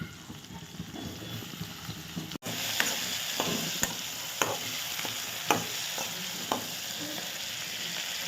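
Tomatoes fry in hot oil for a goat curry, giving a steady close sizzle punctuated by several sharp clicks and scrapes of a spoon stirring the pan.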